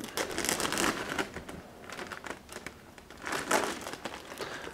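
A crinkly plastic package holding model aircraft wing parts is cut and pulled open, giving close bursts of crumpling and crackling rustle that come and go in uneven waves, with no talking.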